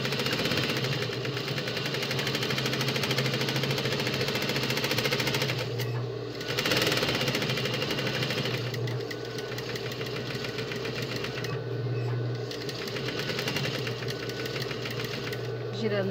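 A sewing machine runs steadily, stitching around the edge of a travel neck pillow: a close, constant mechanical hum and rapid needle rattle, briefly pausing and restarting at the curves.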